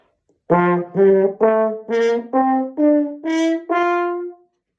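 A natural horn, notes changed by moving the hand in the bell, plays a slow sequence of eight separate sustained notes stepping through different pitches, each slightly muffled or brighter in tone, alone and close.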